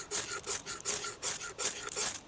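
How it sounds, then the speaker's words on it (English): The spine of a Bark River JX4 Bushbat knife in CPM 154 steel scrapes a ferro rod in about six quick rasping strokes, close and fairly soft, with short pauses between them. "Ferro rod. You get a spot that's not like a cheese grater."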